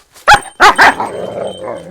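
Large Kangal dogs in a cage let out three loud, deep barks in quick succession, followed by a low rumbling growl that trails off.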